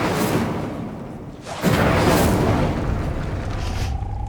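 Incendio fire spell cast in Hogwarts Legacy on PS5: a continuous roaring whoosh of flame that swells sharply midway into a fuller, louder burst and keeps rumbling to the end.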